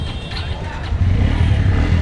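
A car engine turns over and starts, its low rumble rising and settling into a steady idle-rev at a Ganesh Chaturthi pandal outing in Jabalpur, fairly loud and close, with no talk over it.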